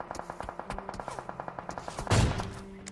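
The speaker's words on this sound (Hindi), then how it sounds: "वैसे बंदा फायर करता है तगड़ा वाला" Enemy gunfire in the BGMI mobile battle game: a rapid string of evenly spaced automatic shots, moderately loud, ending in a heavier burst of impact noise.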